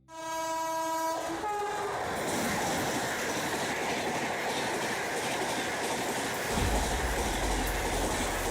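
A train roars past at close range, opening with a sustained multi-tone horn blast that gives way to continuous loud rumbling and clattering of railcars, with a heavy low thump near the end; a cow stands near the tracks.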